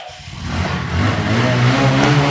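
A second-hand Bajaj Discover motorcycle engine starts and revs up, rising to a steady, loud mid-range drone close by with no talking.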